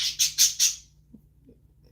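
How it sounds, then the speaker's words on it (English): A few quick, bright chirps from pet birds in a short burst of three or four, then near silence with faint rustles. "when the birds are uncovered and singing like they are now"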